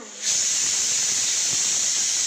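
Food dropped into a hot pan bursts into a sudden loud, steady frying hiss that carries on close by with no voices.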